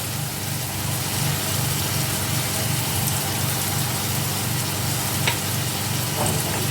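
Vegetables sizzle steadily in a frying pan as they are stirred, a dense continuous hiss with a low hum underneath and a few faint scraping clicks, no talking.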